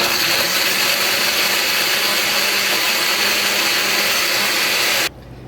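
A blender roars loud and close as it blends a mango smoothie with two cups of ice, a continuous dense whir that cuts off abruptly near the end, with no talk.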